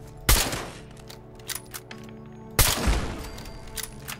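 Two sharp, loud turret gunshots crack out in the video game Fallout 76 at a lumber company site in a forest, each followed by a decaying rumble and a few fainter clicks between them.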